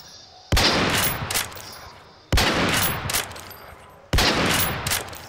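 Three loud gunshot blasts from a gun in the Siren Head video game, each a sharp crack followed by a long rumbling decay, spaced about two seconds apart with no talking.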